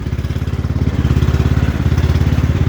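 A Cub Cadet XT1 Enduro series garden tractor engine runs loud and close while driving at night, a steady rapid pulsing chug with regular throbbing beats, alone without talk.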